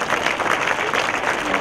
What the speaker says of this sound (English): Give them a big round of applause, okay?